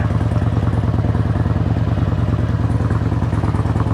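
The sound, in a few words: fuel-injected Harley-Davidson Road King motorcycle engine running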